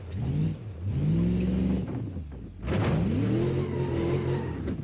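Toyota Land Cruiser engine in the BeamNG driving game revving hard over off-road terrain, with a strong rising and falling engine drone, a brief lull near the middle, then another climbing rev.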